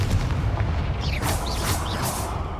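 A Confringo fire spell blasts in Hogwarts Legacy, a rumbling explosive burst with whooshing magical bursts over a steady loud low boom, no talk.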